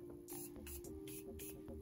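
A Morphe setting spray misted over foundation and concealer in a series of soft, breathy spritzes, about four short hissing puffs in quick succession, close and fairly quiet against a low steady hum.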